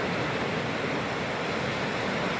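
Steady broadband roar of ocean waves breaking on shore, a continuous dense wash with no distinct individual crashes, loud and constant throughout, with no voices.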